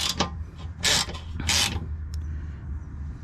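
A ratcheting tool tightens screws on an aftermarket PCI-Racing 3-inch side skirt for a Honda CRX, giving a few close, sharp ratchet bursts and clicks over a low garage background with no talking.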